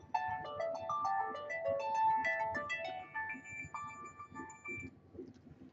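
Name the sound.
phone ringtone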